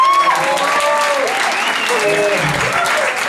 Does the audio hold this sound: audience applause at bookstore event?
yes